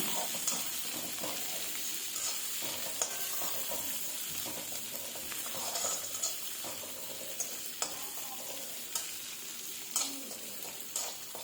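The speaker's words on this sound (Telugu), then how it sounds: "ఇప్పుడు పచ్చిమిర్చి వేసుకొని కొంచెం ఫ్రై అవనిద్దాం" Green chilies and small onions fry in a pan with a continuous close sizzle, punctuated by scattered spatula scrapes and stirring taps.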